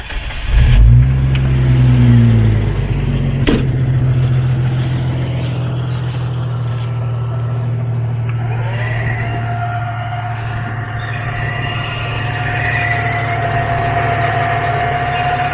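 An electric winch on a Jeep YJ pulls line onto its drum, giving a steady loud motor whine and hum that holds for several seconds after a sharp start.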